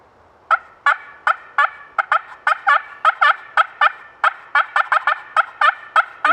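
Rapid series of sharp, clucking turkey-hen cutting notes imitated by a caller on diaphragm and box calls, about twenty loud, close staccato bursts in an irregular, excited rhythm, with no talking.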